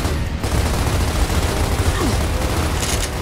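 Gunfire crackles in the Gears of War video game as dense, rapid bursts of shots in a continuous, loud volley, with no talking over it.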